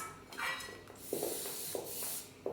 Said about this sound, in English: My good friend, the organic cake release spray, give it a good spray on the sides and the bottoms.